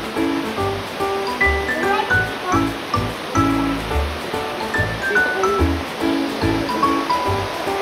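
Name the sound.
Dampalit Falls waterfall beneath Mt. Makiling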